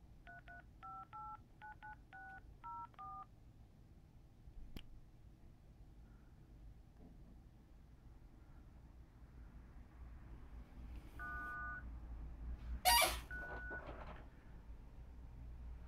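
Mobile phone keypad dialing tones: several short DTMF beeps in a quick run, then a lone beep later, faint and close in a quiet room with no talking.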